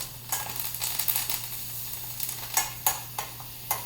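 A roast basted in a pan of sizzling herbed garlic brown butter: a soft continuous sizzle with repeated spoon clinks and splashing bursts as butter is ladled over, close and fairly quiet, no voices.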